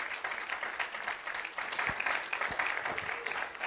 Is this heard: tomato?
no